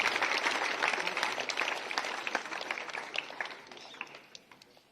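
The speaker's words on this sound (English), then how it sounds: "Big clapping for Mosmi Kumari." A school audience at a Jawahar Navodaya Vidyalaya Ambedkar Jayanti event claps for a student, a steady crowd of many hands that gradually tapers off over a few seconds.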